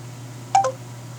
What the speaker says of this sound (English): Placing call to Dave mobile